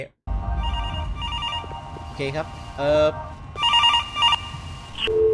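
A telephone rings in repeated electronic bursts within the Roblox horror game Suitborn, sounding at moderate loudness beneath someone talking, with in-game background noise.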